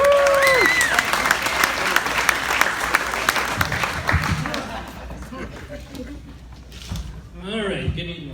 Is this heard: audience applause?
yes